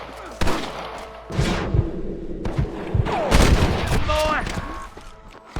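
Gunfire from snipers in a Red Dead Redemption shootout, several loud sharp shots and booming reports mixed with game sound effects, with a voice shouting briefly in the clip.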